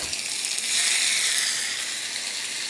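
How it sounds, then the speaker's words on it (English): Pork browning in a film of oil in a screaming-hot skillet: a continuous bright sizzle that swells briefly then settles to a steady, close hiss with no talk. "our skillet now is screaming hot. We've still got some oil on the bottom and it's perfect for doing our pork"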